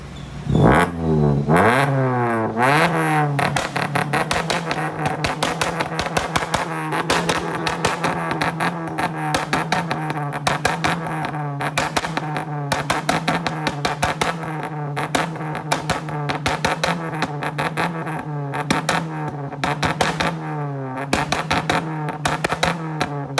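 Maruti Suzuki Ciaz with an exhaust banger tune revving hard, loud and close, with rapid rising and falling engine pitch sweeps and sharp popping crackles running throughout.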